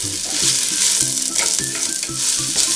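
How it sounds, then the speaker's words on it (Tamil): Onions frying in ghee for ghee rice hiss steadily as a handful or two of mint leaves is stirred in, with repeated scraping strokes of the spoon against the pan in an even rhythm, close and loud, with no talking. "1 கை 2 கை புதினா சேர்த்துட்டு நல்லா அதை கலக்கி விடணும்."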